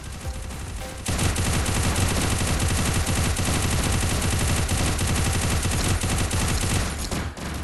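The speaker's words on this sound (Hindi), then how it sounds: "अंधाधुन फायरिंग करो भाई" Sustained rapid automatic gunfire in the mobile battle game Garena Free Fire during a zombie hunt hard mode fight against a dragon, loud and continuous for several seconds after a short lead-in.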